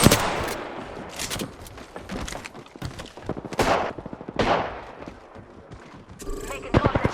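Gunfire in the video game Apex Legends played as Gibraltar, with dense, loud bursts of automatic shots and impacts filling the mix, while an in-game character voice calls out over the shooting.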